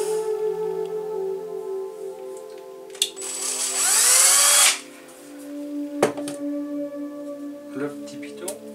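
Power drill boring a small pilot hole in the middle of a turned ash-wood train whistle, a loud close whine lasting a couple of seconds, framed by a lower motor hum and clunks from handling.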